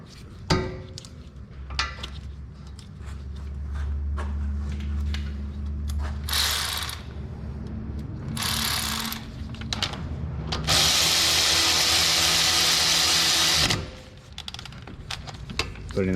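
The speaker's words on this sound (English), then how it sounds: "put our 12mm caliper bolts back in" Ratchet clicking as 12mm caliper bolts are tightened on a Honda Civic during a brake job, with bursts of rapid pawl clicks broken by pauses and a long steady run of ratcheting near the end, close and clear.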